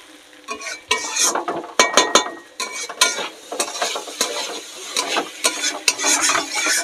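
Ground cumin, ginger, mustard and chili paste sautéing for a tangra fish curry as it is stirred in a pan: busy scraping and clattering of the utensil over a soft sizzle, irregular and close.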